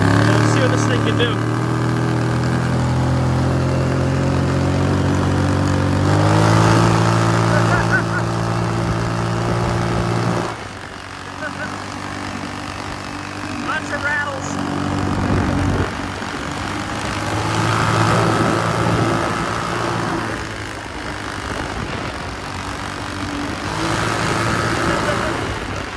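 A Kawasaki Brute Force 750 ATV engine runs with a steady, droning idle that swells briefly around six seconds, drops sharply near ten seconds, then settles back into a rougher, fluctuating idle, reasonably close and continuous.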